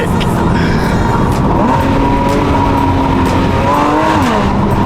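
A Porsche accelerates hard with the windows down, loud engine note rising through the gears with wind rush filling the cabin, and a shift-like dip partway through.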